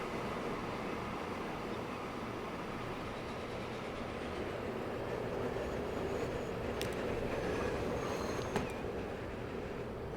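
A train rolls along a track in Transport Fever 2, producing a steady, dense rumble with faint clicks and metallic ticks near the end.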